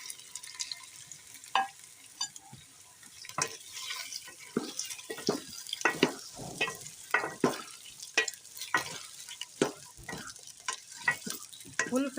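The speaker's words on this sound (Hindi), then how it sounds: "फुल फ्लेम पे हम इनकी भुनाई करेंगे। अदरक लहसुन भी साथ में ही भून लेंगे।" Taro root (arbi) is stirred and fried with browned onions, ginger and garlic over full flame, with irregular scraping clatters over a soft, steady sizzle.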